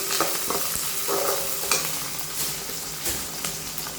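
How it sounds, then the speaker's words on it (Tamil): Onions, peanuts and curry leaves sizzle and fry in a pan for poha upma, with a steady crackle broken by several sharp spoon-stirring scrapes, close and alone with no talk. "இப்போ நல்லா வதக்கிக்கலாம்."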